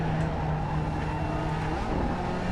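A race car in Assetto Corsa takes a corner hard, its engine holding a steady, loud drone with a tire scrub layered on top. The sound stays continuous and close, with no talking.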